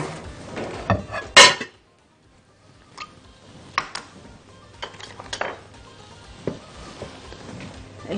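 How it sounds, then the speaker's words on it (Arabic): Eggs being beaten and stirred in a pan: scattered utensil clinks and scrapes against the pan, close and moderately loud, with a short quiet gap early on. "تيجوا بينا بقى ايه نرب البيض ونقلبه مع بعضه كده."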